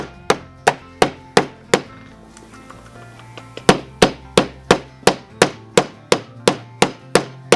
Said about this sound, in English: Nice and relaxed hammer. We're just relaxing hammering.